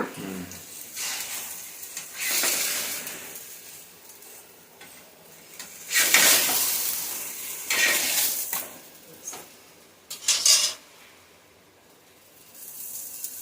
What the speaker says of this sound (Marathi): बारीक गॅस मिडियम गॅसवरती भाजून घेतो